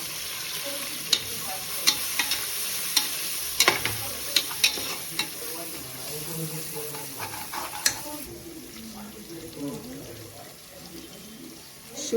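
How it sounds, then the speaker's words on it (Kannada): Ginger garlic paste is stirred in a frying pan, with a soft steady sizzle and repeated sharp scraping clicks of the spoon against the pan, heard up close. "ಸ್ವಲ್ಪ ಮಿಕ್ಸ್ ಮಾಡಿಬಿಡ್ತೀನಿ."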